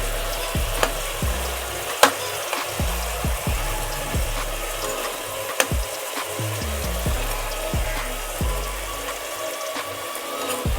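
Honey ginger chicken cooks on a high flame with a steady sizzle and frying crackle, broken by a rhythmic series of scraping stirs and a few sharp clinks of a utensil against the pan.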